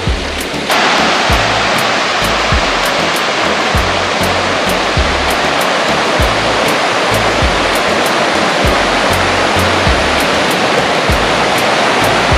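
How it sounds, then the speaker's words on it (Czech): Rushing water of the wild upper Kamenice mountain stream, a loud, steady broadband roar heard close with no letup and no voices. "Pramínku je zde nespočet."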